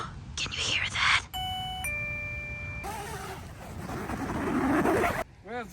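A LETWESAF camping perimeter alarm receiver chimes inside a tent at a campsite at night, giving a short run of clear electronic tones amid wind and rustling, with people talking around it.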